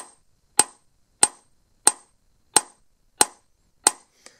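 A hammer peens metal in seven sharp, evenly spaced ringing strikes, each loud and close with a short metallic decay, the last one lighter, with silence between blows.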